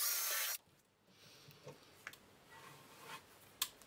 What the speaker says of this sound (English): The halves are then drilled and screwed together,